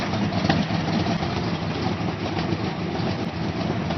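Factory 327 V8 in a 1967 Corvette idling with a steady, dense rumble, loud and continuous throughout with no voices over it.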